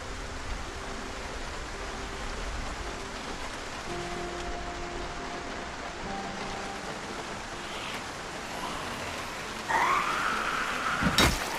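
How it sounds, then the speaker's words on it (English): Steady rain drumming on parked cars in the zombie survival game Project Zomboid, a dense, even hiss, with faint low in-game tones underneath and a brief brighter swell near the end. "I love the sound of the rain on the cars."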